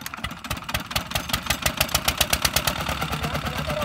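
The engine of a heavy wheat thresher runs close by with a steady, rapid, rhythmic thumping chug at a fairly loud level.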